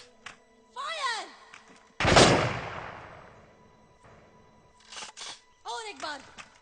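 A movie firing squad fires a single loud, sharp volley that rings out and decays over about a second, with shouted commands before and after it.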